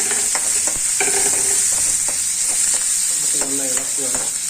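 Sliced onion and curry leaves fry in hot oil with mustard seeds while being stirred, a loud, continuous sizzle with scraping and clinking from the spoon against the pan throughout.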